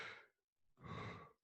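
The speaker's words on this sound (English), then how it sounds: "Somebody's breathing awful hard." Heavy breathing into a microphone, two long, loud breathy exhales separated by a short silence, then a brief sharp intake, all very close to the mic with no speech.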